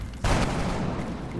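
A gunshot in XCOM Long War, a single sharp blast that cuts in abruptly and then rolls into a sustained noisy rumble lasting about a second.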